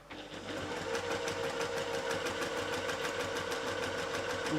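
A sewing machine stitches the bottom of a fabric bag, its rapid rhythmic needle chatter running steadily and close throughout with no voices.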